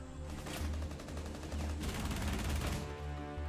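Gunfire in the Rainbow Six Siege video game, loud sustained bursts of shooting that fill the whole moment, with a brief dip midway before the firing swells again.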